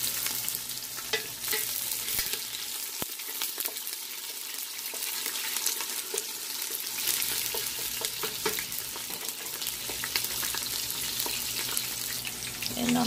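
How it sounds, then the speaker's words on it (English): Onions sizzle and fry steadily in a pot for spinach soup, a continuous close crackling hiss with occasional stirring clinks throughout, no talking. "So I'm gonna add my onions."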